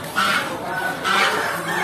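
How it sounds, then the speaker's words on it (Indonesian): Free-range village chickens cluck and squawk in two loud bursts nearby, set against a busy background murmur at the Muntilan animal market in Magelang. "Ayam kampung."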